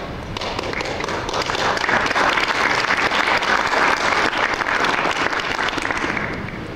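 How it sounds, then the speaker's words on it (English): Conference audience at a space development gathering applauds after a talk, a steady, full round of clapping from a large room that swells slightly mid-way and holds evenly to the end. "I was just clapping, Marshall."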